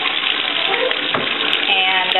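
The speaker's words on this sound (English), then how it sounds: "rinse them off, that helps to get off the last bit of bubbles" Cloth diapers are rinsed by hand under a running tap, a steady splashing gush of water with soft sloshing as the fabric moves through the stream.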